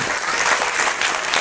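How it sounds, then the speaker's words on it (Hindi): Loud, steady applause from an audience at a science festival in Uttarakhand, welcoming schoolgirls in traditional dress onto the stage, a continuous close burst of many clapping hands. "जोरदार तालियों से स्वागत कीजिए"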